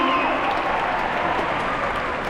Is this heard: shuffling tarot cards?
no